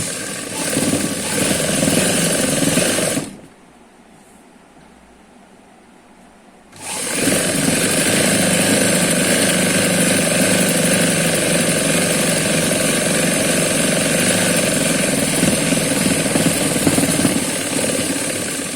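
A sewing machine stitches palazzo pants in a loud, continuous run, stops for a few seconds of quiet, then resumes a long steady mechanical whir to the end.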